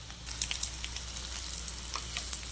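Chapati vadas frying in ghee in a kadhai, a steady soft sizzle with faint crackles and pops running throughout at moderate level.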